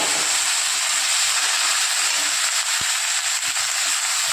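Ginger, garlic, green chili and onion paste sizzling in a hot pan, a loud steady hiss that holds for the whole stretch, with a faint clink partway through.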